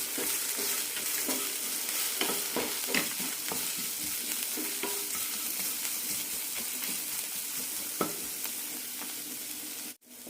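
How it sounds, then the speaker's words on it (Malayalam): Onions sautéed with salt in a pan for a Kerala okra chutney, a continuous close sizzle broken by frequent scraping stirs and light clinks of the spoon, cutting off abruptly at the end. "ഇതിലേക്ക് കുറച്ച് ഉപ്പ് കൂടി ഇടാം നന്നായി വഴറ്റാം"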